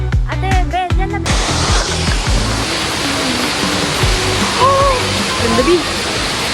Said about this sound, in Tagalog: Ganda, waterfall,